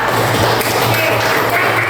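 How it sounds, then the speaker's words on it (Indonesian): Students in an Indonesian classroom applaud a classmate, a steady, dense wash of clapping held at full loudness for the whole stretch, with faint voices mixed in. "kita tepuk tangan dulu untuk Kristia"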